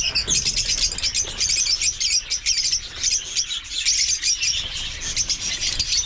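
A dense, continuous chorus of high-pitched chirps and squeaks from many African lovebirds at once, loud and busy, with occasional wing flutters.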